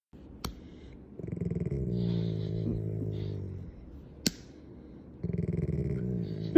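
A dog growls in low rumbling bursts during rough horseplay, with a sharp snap or click between the growls. It sounds close, with short pauses.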